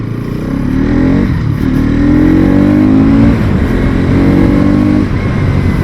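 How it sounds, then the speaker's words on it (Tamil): A Bajaj Pulsar NS200 200cc motorcycle roars loudly and close while being ridden, its exhaust note climbing in pitch through several revving pulls with brief dips between gears, over steady wind rush. "ஓகே, ஸோ இதோட எக்ஸாஸ்ட் நோட் கேளுங்க. வாவ், ரொம்ப ஸ்போர்ட்டியான எக்ஸாஸ்ட்டுங்க."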